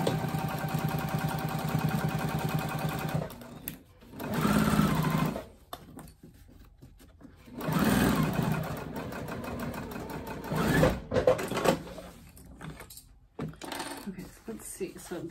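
A sewing machine stitches down the lining of a project box in several bursts of rapid mechanical whirring, broken by pauses and stretches where a person talks nearby.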